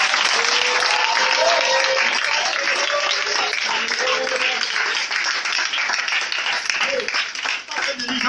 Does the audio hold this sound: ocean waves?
no